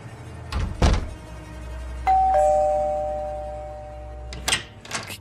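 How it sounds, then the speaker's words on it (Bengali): A doorbell rings with a clear two-tone ding-dong whose tones ring on and slowly fade, preceded by a couple of dull thumps and followed by brief knocks. "কে কে কলিং বেল বাজালো?"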